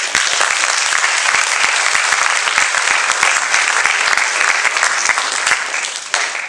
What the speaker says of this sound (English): please can we give a round of applause to Mr. Matt